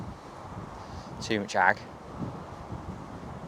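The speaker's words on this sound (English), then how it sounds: "Oh, God, it is windy." Wind blows steadily at an outdoor pellet fishing spot, a constant low rumble of buffeting against the microphone while someone briefly speaks.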